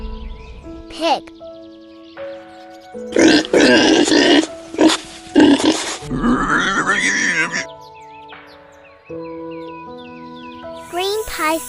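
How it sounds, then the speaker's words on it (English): A pig grunts and snorts in a loud, close flurry of rough calls lasting a few seconds, set against a light musical background. "pig"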